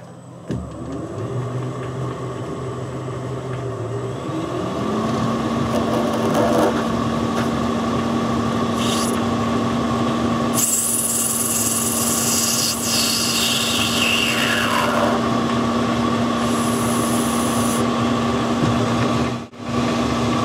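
A lathe machines off the small pip left from parting off and cuts a chamfer on the small workpiece, a steady motor hum with tonal whine and light cutting rub running continuously throughout.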